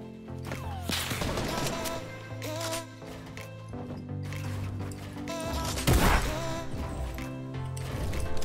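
Rapid bursts of gunfire crack and boom in a Fortnite match, with weapon mechanisms clattering between shots and one heavy blast standing out, all loud and dense with game effects.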